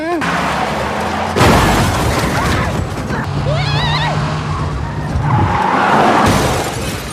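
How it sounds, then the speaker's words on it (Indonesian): In a film scene, a car skids and crashes while fleeing police, with loud screeching tires, heavy impacts and shattering debris, all under talk. "Saat kabur, mobil Perfidia mengalami tabrakan dan dia pun tertangkap."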